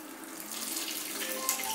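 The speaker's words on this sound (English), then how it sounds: "This instrument channel is open, that's why water is coming out." Water streams steadily out of the open instrument channel of a hysteroscopy pump, a continuous close hissing rush with no talk.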